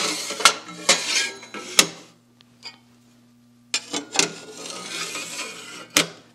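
Metal parts clinking and clattering as a shim gib and chip shields are fitted onto a DoAll milling machine. Irregular, close knocks and scrapes come in two clusters, split by a short near-silent pause with a faint hum.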